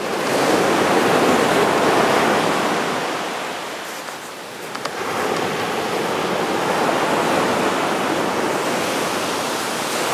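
Ocean surf washes in at Qixingtan beach in Hualien, a loud, continuous roar of breaking waves that dips briefly in the middle before surging back.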